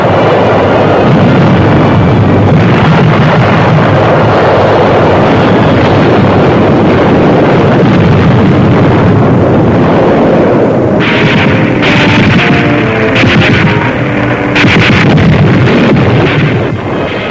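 Continuous roaring bombardment of German artillery fire and explosions along the front near Saint-Lô in World War II archival footage, loud and dense, with sharper bursts and crackle breaking through toward the end.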